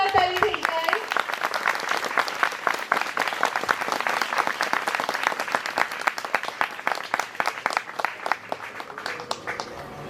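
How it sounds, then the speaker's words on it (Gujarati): An audience at a Gujarati lecture during a Gandhi fair at Gandhi Vidyapith, Vedchhi, breaks into loud, crisp applause; individual claps stay distinct and rhythmic for about ten seconds, with some overlapping talk early on. "આપણે સૌ તાળીઓથી વધાવી લઈએ. એકવાર જોરદાર તાળી"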